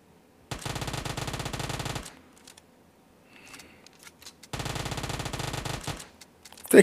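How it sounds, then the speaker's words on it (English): Automatic gunfire in the mobile video game PUBG, two loud rapid bursts of about one and a half seconds each, separated by a quiet gap with faint game sounds. "Where is that person shooting at me?"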